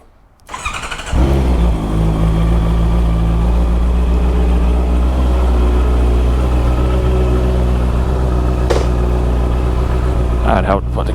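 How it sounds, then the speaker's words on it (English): Honda CBR650R motorcycle with an Akrapovic exhaust cold-starting close up, a brief starter whir then the engine catching into a loud, steady idle with a deep burbling rumble that holds throughout. "Cold start, here we go."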